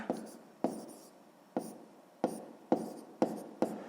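Pen strokes scratching out numbers on paper, a series of short rasping bursts at an uneven rhythm, close and fairly quiet, with no voice over them.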